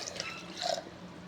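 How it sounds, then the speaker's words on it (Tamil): A brief, soft splash and trickle of a glass of water being poured into a cooking pot, close by and lasting about a second. "ஒரு கிளாஸ் தண்ணி ஊற்றிக்கிறேன்."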